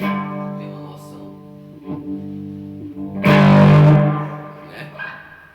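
Electric guitar with heavy distortion, played on the bridge pickup in a lesson: sustained buzzing notes, then a louder, thick crunching chord that rings out and fades, played alone.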